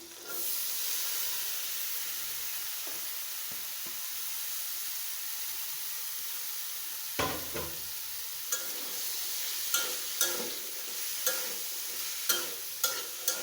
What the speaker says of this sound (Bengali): এখন ভেজে নিব কিছুক্ষণ